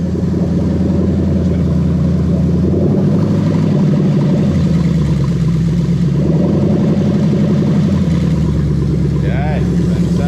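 Toyota Crown Majesta with a 3UZ-FE VVT-i V8 engine idling steadily, a low, even rumble close by with faint fan or air-conditioning hum over it.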